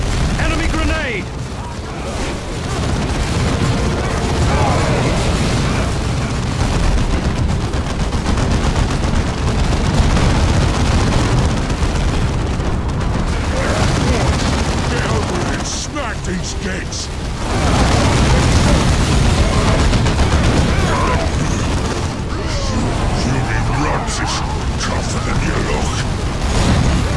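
Grenade blast and rapid gunfire from a Dawn of War 2 Warhammer 40k battle cutscene, a dense, loud, continuous roar of shots and explosions with brief dips, heard under shouted voices.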